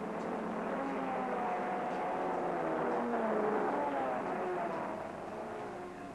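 A 1959 Aston Martin DB sports racer runs at the Goodwood circuit, its engine drone rising and falling faintly in pitch, heard distantly and steadily beneath a faint, hissy background.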